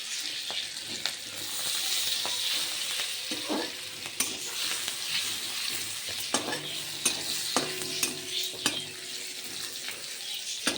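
Torn green chilies and garlic stir-fry in a hot wok, a steady close sizzle broken by scattered clinks and scrapes of the spatula against the metal.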